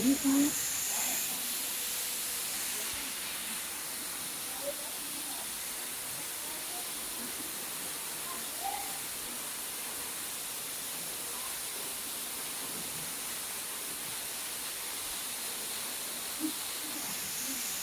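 A steady, even rush of waterfall water at a cliff cave temple in Ubon Ratchathani fills the whole stretch as a constant broadband hiss, with faint voices now and then underneath.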